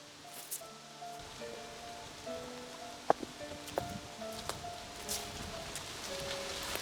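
Cold October wind moving through trees outdoors: a soft, continuous rustling hiss with scattered faint ticks and patters, heard alone at low level.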